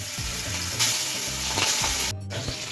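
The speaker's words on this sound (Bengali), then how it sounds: "এবার ওই কড়ার মধ্যেই সর্ষের তেলটার মধ্যে দিয়ে দেবো হচ্ছে ইলিশের লেজগুলো" Hilsa fish tails fry in hot mustard oil in a kadai with a loud, steady sizzle and spatter, with a few clinks and shifting bursts as the pieces go in, and no one speaks.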